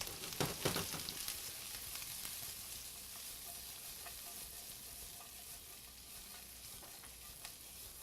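Sliced white and red onions, salted, sauté in a pan with a continuous bright sizzle. A burst of stirring scrapes comes near the start, then the hiss settles into a steady, fairly quiet fry with no voices.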